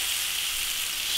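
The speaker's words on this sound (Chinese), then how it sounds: "烧油炒调料，青红椒、芹菜丁炒香" Green and red peppers and diced celery stir-fry in hot oil in an iron wok, a loud, close, continuous hiss of sizzling with no voices.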